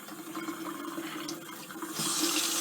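Tap water runs steadily into a sink while paint brushes are washed with linseed soap, a continuous close splashing hiss that grows brighter and louder near the end.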